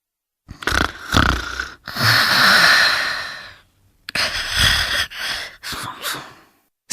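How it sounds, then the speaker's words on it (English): A person snores loudly and close by, several rasping breaths in an uneven rhythm, each drawn-out snort followed by a pause, with no talk. "Snore."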